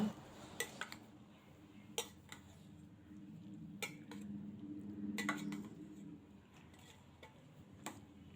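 A spoon stirs avial, a Tamil mixed-vegetable dish, in a pot in a home kitchen, with quiet scraping and several sharp metal clinks, the last as the lid goes on.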